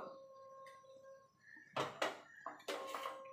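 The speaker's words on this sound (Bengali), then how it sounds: "একটা কড়াই বসিয়ে দেবো।" A metal wok is set down on a kitchen stove, giving a few sharp clanks and knocks after a quiet start.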